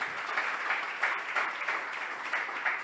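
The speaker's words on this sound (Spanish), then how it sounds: "Dale un aplauso ahí al rey." A church audience claps in applause for the king, a moderately quiet, even stream of many hands with soft pulsing swells, heard from a slight distance.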